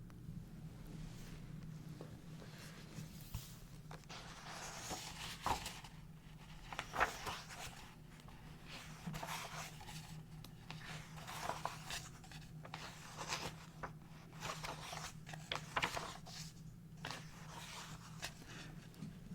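Soft, intermittent rustles and flips of paper pages, several separate turns spread across a quiet, close background with a low steady hum.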